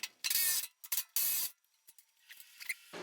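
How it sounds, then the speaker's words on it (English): Bolts come off a Highland Park shaping machine crate with a wrench. Two bursts of close, loud ratcheting are followed by softer clicks and rubbing metal sounds. "my plan is to unbolt the 4 remaining bolts if they play nice"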